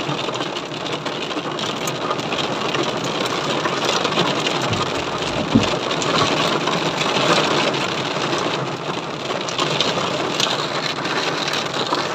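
Steady rain falling in Konya, Turkey, a dense unbroken hiss of drops hitting surfaces, close and fairly loud, with faint background rumble and no talking.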